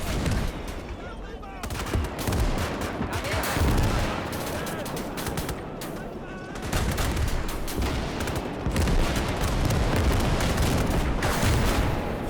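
Rapid bursts of gunfire mixed with booming explosions from a video game battle with mechs, loud and dense throughout, with a voice occasionally audible beneath the chaos.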